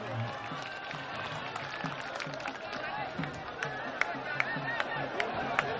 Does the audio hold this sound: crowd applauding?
yes